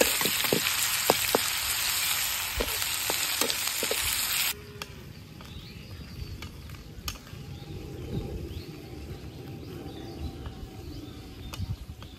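Onions, chillies and garlic sizzle in a pan for a taro-leaf curry: a loud, dense frying hiss with stirring taps for a few seconds, then a quieter, steadier crackle continues alone.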